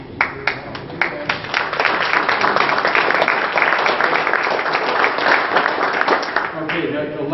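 Audience applause at a Dennis Kucinich campaign event in Cedar Rapids, starting with a few scattered claps that swell into a sustained, dense round from the crowd before tapering off near the end.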